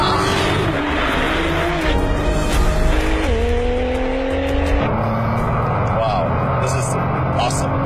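A Nissan GT-R sports car on a racetrack, engine note rising and falling through cornering and acceleration with brief tire squeal, heard up close under a steady roar while people talk.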